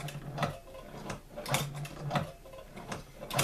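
A hand-cranked leather sewing machine stitches at a slow, even pace, its needle mechanism giving a regular series of close mechanical clunks and ratcheting ticks, about three per second, with no talk.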